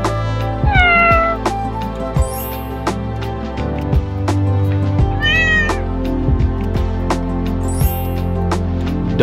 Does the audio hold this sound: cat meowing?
yes